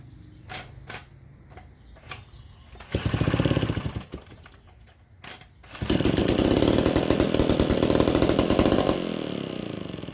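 A 40-year-old McCulloch 1225A two-stroke chainsaw engine with a dirty carburetor is turned over by a drill with a few sputters and whirs, then catches and runs loudly and raggedly, a steady rough buzz close by.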